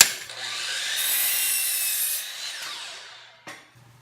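A hand or circular saw cuts through a wooden stud for the base of a knee wall, a single steady rasping cut of about two and a half seconds, close and fairly loud, ending with a short knock and then near silence.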